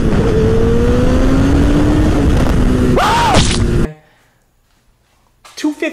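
A Honda CBR1000RR 1,000cc sport motorcycle engine roars loudly, its pitch climbing as it revs hard, then cuts off abruptly, followed by brief voices.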